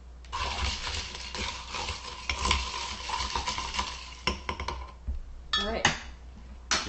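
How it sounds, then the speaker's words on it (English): A bourbon cocktail with fresh mint is stirred briskly in a glass, giving close, quick clinks and scrapes of a spoon that come in short bursts and end in a few sharper rattles. "Let's stir that up real quick."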